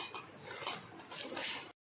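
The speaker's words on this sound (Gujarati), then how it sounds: "હવે તેને આ રીતે આપણે ક્રશ કરી લઈશું બટાકાને પહેલાં" Boiled potatoes being crushed and mashed in a metal pot or bowl for farali buff vada, a steady run of scraping, squishing and clinking for under two seconds, close and alone with no talk.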